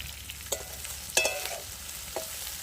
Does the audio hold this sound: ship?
no